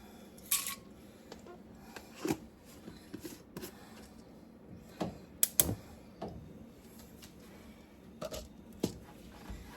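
A tablespoon of peppercorns tipped into a jar of cucumbers and jalapeños for pickling, heard as sparse, sharp little clicks and rattles in short clusters against a quiet background.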